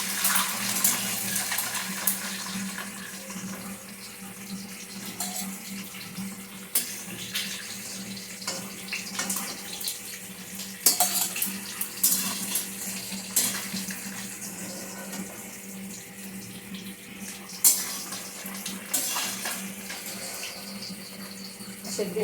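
Duck egg frying in hot oil in a pan, a steady close hiss and crackle running for the whole stretch with small surges, no voices.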